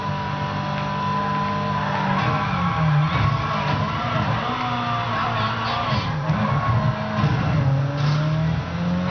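A race car in the video game Midnight Club LA revs and accelerates hard, its engine loud and continuous with rising and falling tones and a brief tire squeal, under game music.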